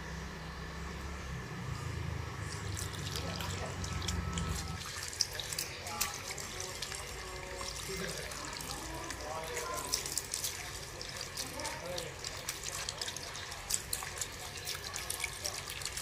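Tap water trickles and splashes faintly while feet are washed, scattered drips and small spatters over a low background hum that drops away partway through, with soft voices now and then.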